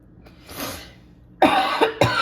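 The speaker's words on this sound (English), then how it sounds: "I felt that cough coming." A single close cough bursts out, followed moments later by a couple of short throaty, voiced sounds like clearing the throat.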